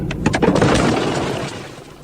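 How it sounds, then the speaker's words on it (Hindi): Stone fragments thrown up by a bomb blast in Kherson strike a car windscreen, a cluster of sharp cracking impacts early on over a loud rumbling wash that slowly fades. "कुछ पत्थर तो इस कार की विंडस्क्रीन पर आकर भी लगे और आप साफ साफ इनकी आवाज सुन सकते हैं।"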